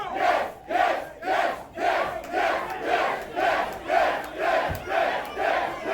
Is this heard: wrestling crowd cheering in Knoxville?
yes